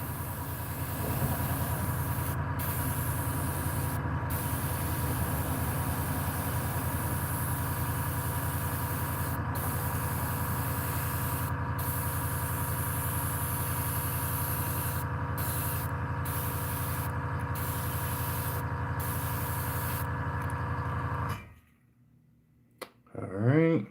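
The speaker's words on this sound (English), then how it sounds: "I'm basically just spraying over the black." Airbrush spraying paint over black while painting realistic bluegills, a loud, steady hissing spray held continuously for about twenty seconds before cutting off abruptly, followed by brief quiet handling noise.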